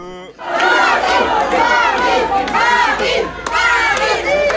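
A crowd gathered at the Ibis hotel in the city centre greets Marine Le Pen with loud, sustained shouting and cheering from many voices nearby, surging in waves after a brief quiet start.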